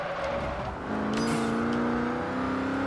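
A race car engine in the Forza Horizon 2 video game holds a steady high-revving drone that climbs in pitch partway through. It plays alone at an even level with no talk.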